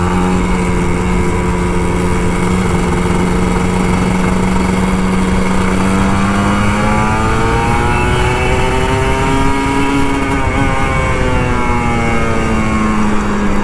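An old Kawasaki Ninja RR 150 two-stroke motorcycle warms up at idle nearby, a loud continuous buzzing engine tone that drifts slightly up and down in pitch, with no other sounds.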